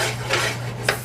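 Butter, margarine and all-purpose flour are stirred in a pan, two short, gritty scrapes of the utensil over the pan's bottom above a steady low hum.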